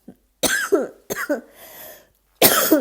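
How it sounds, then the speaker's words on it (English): Several harsh coughs in quick bursts, close and fairly loud, with brief silences between them and a final longer cough. "I'm still coughing."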